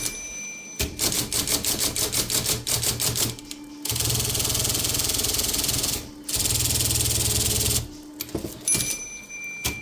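An IBM Selectric typewriter converted to battery power runs its motor, producing rapid, loud mechanical clattering in bursts, broken by short pauses and stretches of steady buzzing drive noise.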